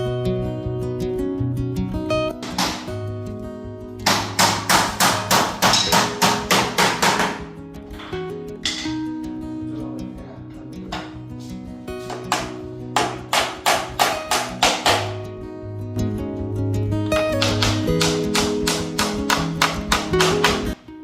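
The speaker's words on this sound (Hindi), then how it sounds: "6-6:30 बजे के बाद में फिर ये जो ठोका पीटी की आवाज़ है" Carpenters hammer on wooden furniture inside a new house, sharp clusters of fast repeated knocks alternating with short pauses, close and loud, with no talk.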